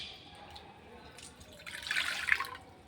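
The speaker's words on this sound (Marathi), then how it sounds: "त्याच भांड्याने मोजून आता 1 भांडं पाणी घेते." Water poured into a cooking pot, measured out with a vessel for modak dough in a home kitchen; a short splashing trickle builds in the last second and a half after quiet, with no talk.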